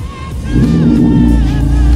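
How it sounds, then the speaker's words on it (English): A 2018 BMW M4 with a performance exhaust revs up, a loud, deep engine roar climbing and holding steady close by, with a crowd faintly present underneath. "Performance exhaust."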